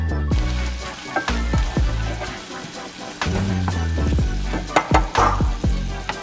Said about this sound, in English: You're gonna allow your bacon to cook a little bit on medium to high heat.